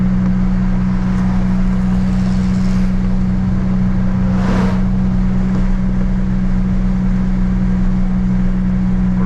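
A 1986 Buick Grand National cruising at about 50 mph and 2,500 RPM gives a steady, loud in-cabin engine drone with road and wind rush, unbroken throughout.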